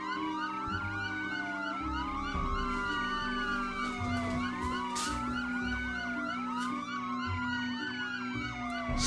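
Several police sirens overlap, their pitches sweeping up and down in repeating cycles, continuous and fairly loud with a steady hum beneath.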